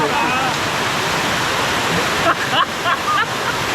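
A loud, steady roar of Masila Falls in the Kolli Hills, Tamil Nadu, fills the scene, with a few brief voices rising faintly above it near the end.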